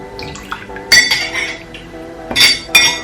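A spoon clinks against a bowl while stirring a lemon juice mixture for a belly-fat drink, with sharp metallic taps near 1, 2.4 and 2.8 seconds over soft scraping in between.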